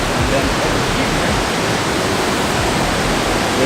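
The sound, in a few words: waterfall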